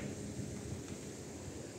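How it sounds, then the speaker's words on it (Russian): Low, steady rumble of distant thunder under dark storm clouds, faint and spread out with wind-like noise, no talk over it. "Гремит что-то там серьезно такое."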